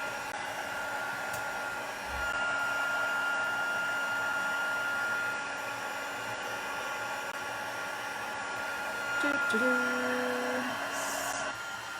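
A heat embossing tool blows hot air in a steady, close whooshing hiss during card making, holding an even level for the whole stretch with no talking.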